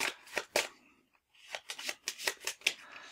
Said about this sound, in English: I'm trying to do a shuffle here.